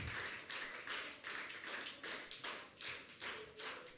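Church congregation at a Zomi Christian service applauding a primary-school prize winner: a steady run of hand claps over four seconds, moderately loud with rhythmic pulses.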